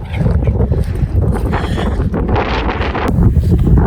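Outdoor wind buffeting a small earbud microphone, a loud rumbling, fluttering roar that gusts unevenly throughout, alone without talk.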